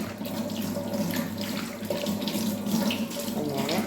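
Tap water runs steadily into a kitchen sink during dishwashing, a loud, close, continuous gushing flow with faint clinks of dishes, no talking.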